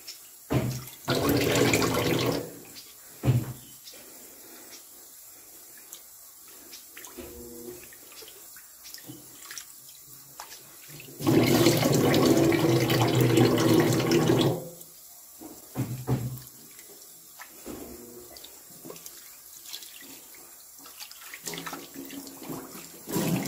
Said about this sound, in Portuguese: Eu vou passar uma aguinha aqui de leve para não soltar o polvilho ali do fundo